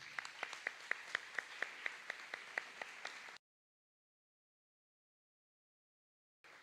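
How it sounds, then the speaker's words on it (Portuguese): Church congregation applauding in rhythmic, evenly spaced claps for about three seconds, moderately close, then the sound cuts to silence until a brief return at the very end. "Você pode aplaudir a Jesus?"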